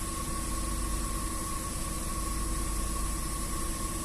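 A cold Range Rover 4.2 supercharged V8 idles steadily with a constant mid-range drone, a faint steady whine on top and a slightly uneven, shaky pulse from misfiring, heard close up with no talk.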